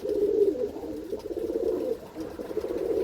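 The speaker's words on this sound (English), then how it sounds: "It's all these birds are new ones, new babies." Pigeons cooing on upper terraces, a continuous chorus of soft, low, rolling coos from several birds close by, with no talk.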